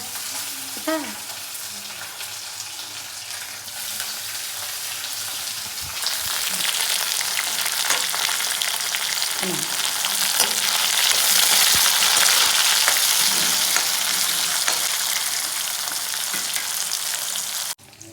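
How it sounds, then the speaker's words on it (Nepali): Tomatoes frying in a pan with onion, a hiss that starts moderate and then swells into a louder, bright sizzle after they go in, with a few clinks and stirs. "मेरो टमाटर पाक्दैछ"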